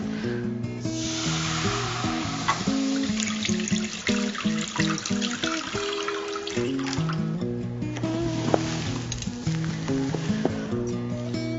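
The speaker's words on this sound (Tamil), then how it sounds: "இந்த ரவை வேகறதுக்கு அளவுக்கான தண்ணி விட்டுடலாம்." Water is poured into roasted semolina in a hot pan for pineapple kesari, setting off a loud, continuous sizzle and bubbling that runs throughout with stirring scrapes.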